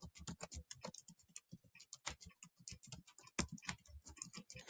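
Someone types on a computer keyboard, quick irregular clicks in short bursts, close and fairly quiet with brief pauses between runs.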